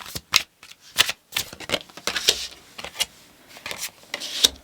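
Tarot cards being shuffled by hand, uneven bursts of crisp riffling and slapping close up, separated by short pauses, with no speech.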